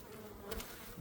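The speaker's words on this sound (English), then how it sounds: "The bees are doing well up here." Honey bees hum at a hive in a March apiary, a close continuous buzz with a few individual bees swelling briefly louder as they pass near.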